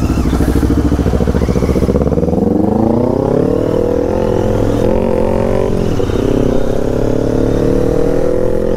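Loud Kawasaki ZX-10R and GT 650 motorcycles riding close by on a public road, their engines blaring with a rapid pulsing rumble and rising revs as they accelerate.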